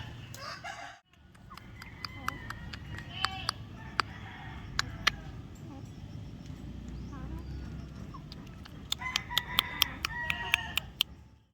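White leghorn chickens with trimmed combs cluck and crow on a farm, with sharp, repeated calls over a busy background of hen chatter and a short dip in sound early on.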